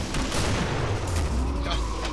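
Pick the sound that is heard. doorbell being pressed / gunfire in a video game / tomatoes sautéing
gunfire in a video game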